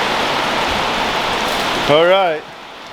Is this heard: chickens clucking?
no